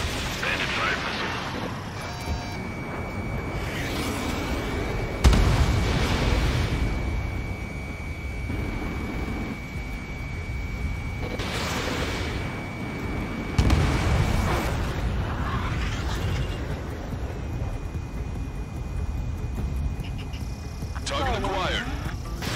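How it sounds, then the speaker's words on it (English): Enemy missile fire and explosions in the Ace Combat 7: Skies Unknown video game, with several heavy booming bursts spread over a steady rumble of engine noise, while game radio chatter and a voice talk throughout. "Bandit fire missile."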